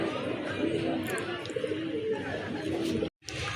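Large, deep red pigeons coo in a loft, soft low rolling calls layered over constant chatter of surrounding birds, close and steady until a sudden brief cut near the end.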